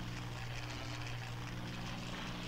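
A propeller aircraft takes off in the Battle of Britain flight game Combat Wings, a steady loud engine drone with a low harmonic hum throughout, no voices.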